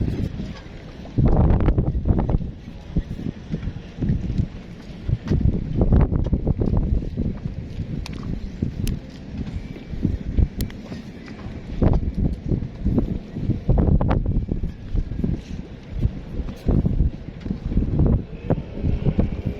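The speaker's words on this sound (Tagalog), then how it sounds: "Hindi pa tayo dito sa gilid, malakas ang hangin." Strong wind buffets a fishing boat at sea off Mykonos, Greece, roaring continuously across the microphone with irregular gusty thumps and knocks throughout.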